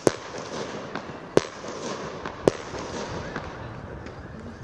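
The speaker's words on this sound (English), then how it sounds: "I wonder if these fireworks get too close" Fireworks popping near a university football match between Salford and Liverpool Hope, with four sharp distant bangs spaced roughly a second apart over a steady crowd and outdoor wash.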